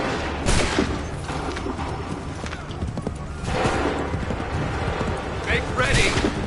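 Musket volleys in the video game Assassin's Creed 3 crack out as several broad, rolling bursts over a constant din of battle, with horse hooves and shouting voices mixed in.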